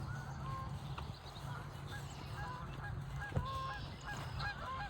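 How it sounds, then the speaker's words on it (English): A flock of geese honking in the distance outdoors, repeated faint calls over a steady low background rumble, with a voice talking nearby. "here goes a bunch of geese"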